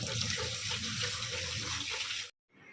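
Tap water runs in a steady, close rush for washing up in a home kitchen, then cuts off abruptly near the end and leaves a brief quiet tail.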